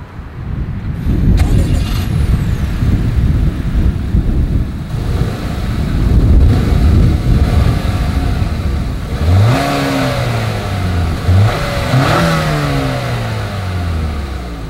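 Acura TLX, 2024 model, revving through its dual exhaust, heard outdoors close to the tailpipes under steady wind rumble; a deep idle builds into two rising throttle blips that fall back, loud and alone with no talk.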